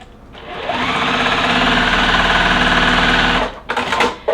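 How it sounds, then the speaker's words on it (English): Sewing machine stitching two fabric squares together, a loud, steady motor whir running for about three seconds before stopping, followed by brief fabric handling noises. "we're going to sew our 2 squares together"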